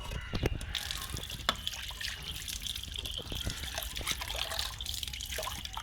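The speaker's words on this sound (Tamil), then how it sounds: "ஃபஸ்ட்டு தண்ணி க்ளீன் பண்ணணும். இங்கே வச்சுட்டு தண்ணி ஊற்றி வேண்டியதான்" Water poured out for a light wash, trickling and dripping in a continuous splashing stream close by, with no clear talking.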